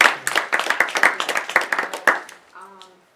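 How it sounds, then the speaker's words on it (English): Audience at a Manhattan borough board meeting breaks into steady, fairly close clapping that fades out near the end. "You really deserve a big round of applause."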